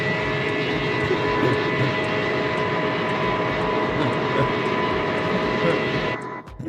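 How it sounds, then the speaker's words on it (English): Aircraft engines of an E-Jet in Microsoft Flight Simulator, a constant loud jet roar with a steady whine that runs unbroken and then drops away abruptly near the end. "Aircraft engines."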